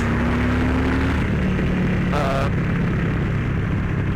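A Harley-Davidson Street Bob 114 running a downloaded DynoJet Power Vision tune rumbles steadily as the throttle is grabbed while rolling, a loud continuous engine drone with wind noise throughout.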